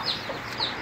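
A fighting rooster clucks twice close by in a backyard vegetable garden, short soft calls over quiet outdoor background.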